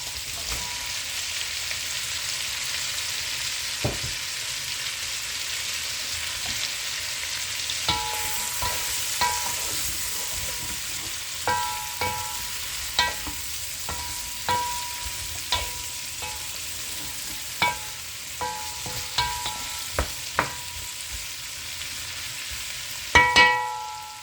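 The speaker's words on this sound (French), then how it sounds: "Après, je rajoute les oignons." Onions fry in a pot while being stirred, giving a steady bright sizzle throughout, broken by scattered clinks and scrapes of a utensil against the pan, with a cluster of louder clatters near the end.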